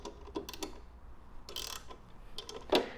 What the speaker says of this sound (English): You can see where this ratchet wrench is really nice to get into this tight spot here.